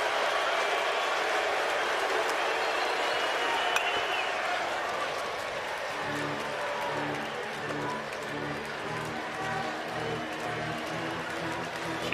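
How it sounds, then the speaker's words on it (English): A baseball stadium crowd rises and cheers in the bottom of the ninth of a tied 3-3 College World Series final between LSU and Florida. The roar is broad and sustained, and a commentator talks over it. "Crowd comes to its feet again"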